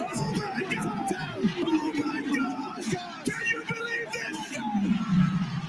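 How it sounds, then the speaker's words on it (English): A wrestling arena crowd roars and chatters in a loud, continuous babble with scattered shouts, while a voice talks over the din. "So the crowd's erupting and listen to the commentator"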